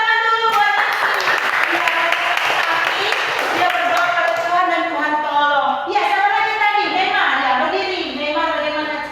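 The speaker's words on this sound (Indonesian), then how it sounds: "Iya, tepuk tangan juga buat mereka." Children in a classroom clap together, a dense burst of applause that fades after a few seconds while young voices and a teacher speak and call out over it.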